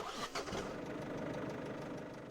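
A car engine in the video game Verge: Lost Chapter cranks and catches, then settles into a low, steady idle, heard quietly and alone.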